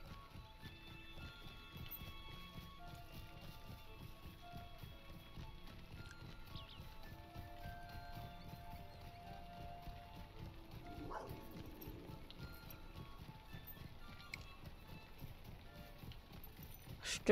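Horse hooves clip-clopping in the video game Lord of the Rings Online, a steady quick rhythm of soft hoofbeats running throughout at moderate, even loudness beneath faint game ambience.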